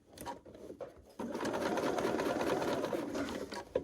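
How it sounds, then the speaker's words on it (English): A sewing machine stitches quilt pieces together, starting with a few short taps and then settling into a steady, close, continuous whirring run of stitches with no talking. "now you're sewing 2 of the pieces together"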